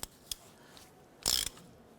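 Ratchet wrench working a nut on a 1993-1997 Ford Ranger front lower ball joint, a few faint clicks followed by a short loud ratcheting burst, close and isolated with no speech.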